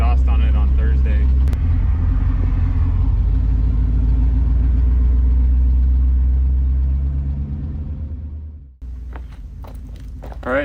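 An old V8 car engine, still without a proper exhaust, rumbles loudly at idle with a deep, steady low throb that fades out before a short pause; a voice talks over part of it.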